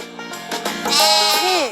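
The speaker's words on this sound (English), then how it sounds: "Sheep." A sheep bleats once in a loud, close, wavering cry that rises and warbles over under two seconds, heard alone.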